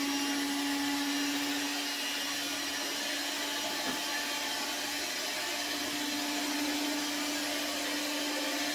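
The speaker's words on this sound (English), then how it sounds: "The mixer, yeah." An electric mixer whirs through boxed cake mix with a steady, continuous motor drone at moderate loudness, holding an even pitch throughout with no talking.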